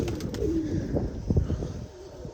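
Pigeons coo in low, soft murmurs near a loft, mixed with scattered knocks and rustling close by and a steady hum.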